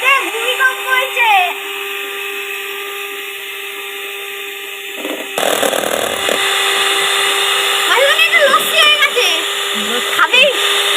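An electric blender beats eggs until fluffy for a cake batter, its high motor whine running loud and steady, briefly changing pitch partway, with family voices chattering over it.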